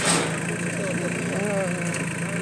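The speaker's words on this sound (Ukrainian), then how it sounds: "Дивіться, як він тихесенько-тихесенько працює" A Solis tractor with a Mitsubishi engine idles quietly in a low, even hum, with brief speech-like tones over it.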